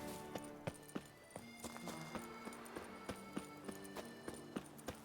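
Hooves of the horse Roach clip-clopping in the Witcher 3 video game, a steady run of fairly quiet hoofbeats repeating about every half second, alone and without talk.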